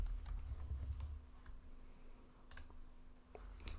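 Keys clack on a computer keyboard while a word is typed into a Photoshop generative fill prompt, giving a few quick, light clicks in short bursts over a low steady room hum.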